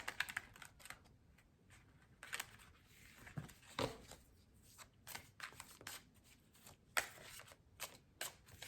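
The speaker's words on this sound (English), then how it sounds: "I'm just gonna shuffle one more time." Quiet, irregular riffling and tapping of cards being shuffled, in short bursts with small pauses between them, close by.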